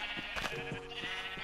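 Sheep bleat in the Minecraft video game, several short nasal cries in quick succession, close and clear with no talking over them.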